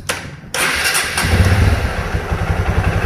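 A Honda CRF 150L motorcycle with a remapped ECU fires up after a short starter crank, then settles into a steady, close, thumping idle.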